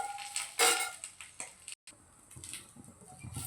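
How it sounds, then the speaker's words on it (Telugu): Curry leaves frying in a pan for a curry leaf pickle, soft sizzling and crackle with clinks of a spoon stirring against the pan, close and fairly quiet with a brief silent gap. "ఇలా వేయించుకోవాలి"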